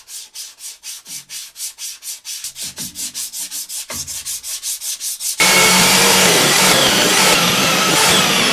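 A plywood piece is sanded, first with a series of quick rhythmic back-and-forth hand strokes, then with a continuous loud rasping sweep, close up with no talking.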